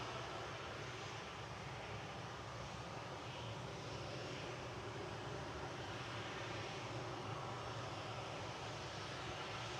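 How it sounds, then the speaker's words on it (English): Royal Air Morocco airliner taxiing at Manchester Airport, a steady low jet-engine rumble and broadband hiss holding level throughout, moderately distant with no voices over it. "Royal Air Morocco is taxiing out."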